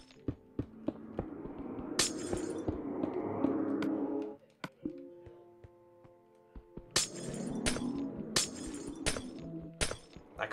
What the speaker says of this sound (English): I like the oddly satisfying sound of breaking glass.